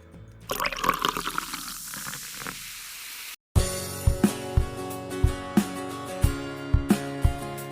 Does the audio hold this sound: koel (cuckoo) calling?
no